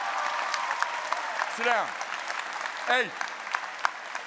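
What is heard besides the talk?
audience applause at a leadership summit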